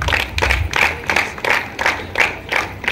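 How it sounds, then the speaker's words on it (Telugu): Audience applause for a guest at a Jogipet Cambridge High School farewell party, loud rhythmic clapping in steady repeated bursts, close and continuous with a crowd murmur beneath. "give him a big claps to mister Narsanna"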